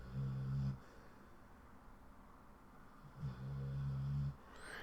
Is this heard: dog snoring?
yes